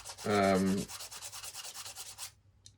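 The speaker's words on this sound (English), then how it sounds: "Guess I can sand it down a little bit." Sandpaper rubs quickly back and forth on a model USS Missouri warship, sanding down the support blocks under the hull. The strokes are rapid and close for about two seconds, a short squeak comes near the start, and the sound then stops.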